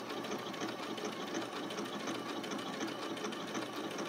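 A Janome Skyline S7 sewing machine runs an applique stitch with a continuous, even, close mechanical hum and rapid needle chatter, alone without talking.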